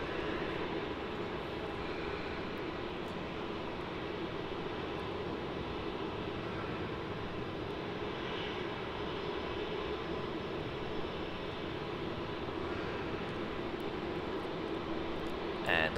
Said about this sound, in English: there's another one taxiing up to the runway now as we speak